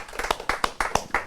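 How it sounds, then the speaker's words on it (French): A few people clap for a participant at a live work event in Pornic, sparse, distinct hand claps in an irregular rhythm, moderately close and not very loud. "Helder Mendes sous vos applaudissements"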